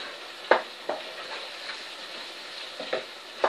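Spices being stirred into potatoes and eggs frying in a pan, a steady sizzle under scattered scraping strokes of the spoon, close by with no talk.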